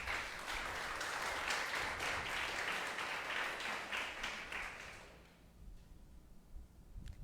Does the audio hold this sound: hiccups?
no